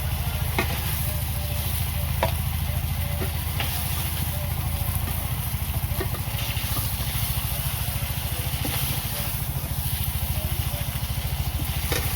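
Fish fry in oil seasoned with turmeric, a continuous close sizzle over a low steady hum, with occasional faint pops and no clear speech.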